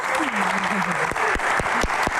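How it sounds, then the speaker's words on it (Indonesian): Dense audience applause fills a Q&A session, steady and continuous, with a voice speaking over the start of the clapping and a few louder claps standing out near the end. "Tepuk tangan sekali lagi untuk Bapak"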